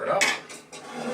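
A utensil stirring cauliflower and broccoli in a pan, a few close metallic scrapes and clinks in quick succession, with no talk.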